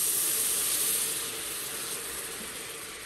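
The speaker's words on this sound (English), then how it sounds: "First thing we want to do is deglaze a little bit. So I'm just going to take just a little bit of my broth" Beef broth is poured into a hot Instant Pot to deglaze it, giving a loud, broad sizzling hiss that is strongest at the start and eases off gradually with no talking.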